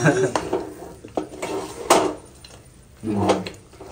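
Coconut halwa stirred in a metal pan with a utensil, giving scraping, clinking strokes in irregular bursts, close and fairly loud, with a brief spoken remark in between.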